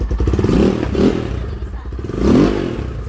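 A long-unused Rusi Sigma 250 motorcycle engine idles close by with a rough, pulsing chug, briefly rising in pitch twice as the throttle is blipped.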